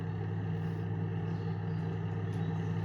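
A steady, low truck engine drone in Farming Simulator 25 hums without a break, even and continuous, like a vehicle idling nearby.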